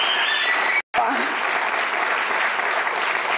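Studio audience applause on a Spanish TV programme, loud and continuous clapping that cuts out for a split second, then carries on steadily.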